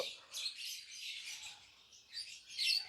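Soft, high chirps and tweets from small birds close by, coming in short bursts with brief pauses, otherwise quiet.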